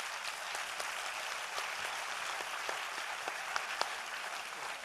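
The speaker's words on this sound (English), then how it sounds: "you could clap for yourself as hard as you can" An audience at a live ethnopharmacology conference session applauds itself, a sustained, even patter of many hands clapping with a few sharper claps standing out, heard at a moderate distance.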